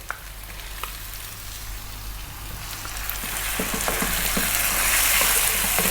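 Tomatoes hit a hot pan for a bone-in Punjabi lamb curry, sizzling and frying steadily with occasional stirring scrapes, the crackle growing louder and denser over the whole stretch under a low background hum.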